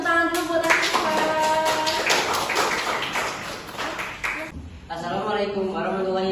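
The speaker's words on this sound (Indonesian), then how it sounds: "tepuk tangan dulu buat Ashifa" A class of students claps for a classmate, a burst of distinct hand claps with some uneven rhythm lasting several seconds, followed by a teacher speaking.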